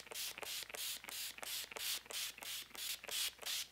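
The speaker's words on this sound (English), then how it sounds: "All right, just spray the face and fan it off" Makeup setting spray is misted onto a face in about ten quick, evenly spaced hissing bursts, close and fairly quiet, with no talking.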